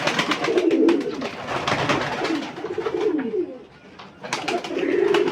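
Kaldoma pigeons cooing in a loft, several birds giving repeated throaty rolling coos close by, overlapping one another with wing flutters and rustles in between and a short lull near the end.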